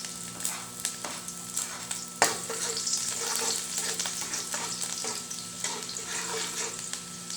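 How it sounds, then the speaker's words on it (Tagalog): Garlic sautéing in hot cooking oil for a chicken curry, a steady close sizzle and crackle with occasional stirring clatter, running continuously with no talk. "Nagpainit na po pala ako ng mantika dyan. Gigisa ko na po yung bawang."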